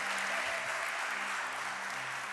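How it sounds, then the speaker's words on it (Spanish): A church congregation claps together in a brief burst of dense, even applause from a crowd. "Demos un fuerte aplauso a Dios por la vida de cada uno de ellos."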